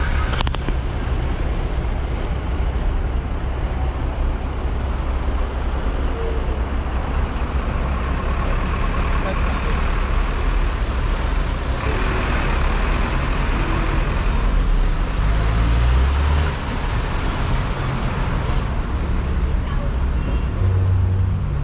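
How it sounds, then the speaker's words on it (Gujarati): Heavy traffic on a congested highway, a loud, dense, continuous roar of engines and rumbling buses and trucks close by, with a few brief higher noises near the end. "હાઈવે ઉપર અહીંયા છે અને સખત ટ્રાફિક છે ભાઈ, ભયંકર ટ્રાફિક અહીંયા છે."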